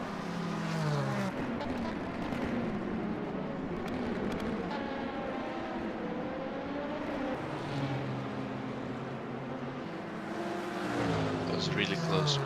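Race cars in a sim racing endurance game, GT3 and LMP2 machines braking into turn 1, engines whining and shifting down as pitch drops, steady engine roar under continuous commentary talk.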